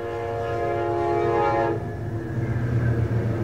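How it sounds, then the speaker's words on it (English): A passing train sounds its horn in a loud sustained blast that cuts off partway through, leaving the steady rumble of the rail cars rolling by close at hand. "This train is going to go by."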